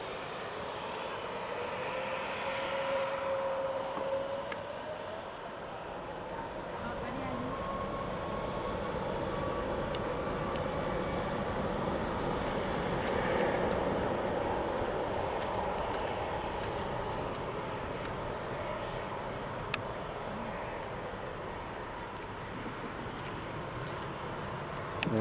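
TUI passenger airliner departing Newcastle International Airport, its engines a steady roaring rumble with a slowly rising whine as it moves off, heard from a distance for the whole stretch.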